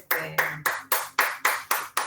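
Hands clap at the close of a panel talk on masculinities, care and environmental health, in sharp, evenly spaced claps about four per second that sound like only a few people and stay close and clear.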